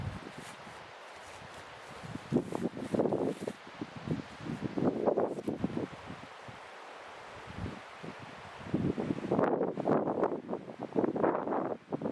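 Wind gusts through trees at a wilderness campsite in Alaska, rising and falling in rushing waves of rustle and microphone buffeting, fairly close and moderately loud, with quieter lulls between gusts and no talking.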